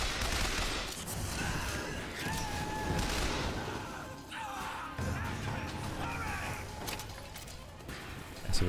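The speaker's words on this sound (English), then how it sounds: "Stop shooting at it." Gunfire and combat effects from the video game BioShock Infinite form a dense, continuous wash of shots, crashes and impacts over a steady background score, with no clear pauses.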